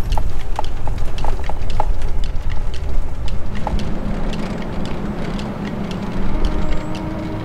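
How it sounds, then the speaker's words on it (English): Wild horses' hooves clip-clop in a steady rhythm, fairly close at first then continuing more faintly over a low background rumble. "Are those horses?"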